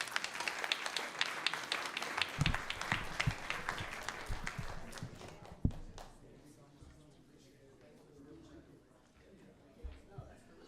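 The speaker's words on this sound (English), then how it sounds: "Let's give him another round of applause." A crowd at a school board meeting applauds, thick clapping for about four seconds that thins to a few last claps and fades, after which a voice speaks against a low room hum.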